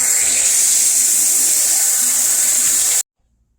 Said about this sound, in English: I'm going to rinse with cool water and then just follow the directions and dry them.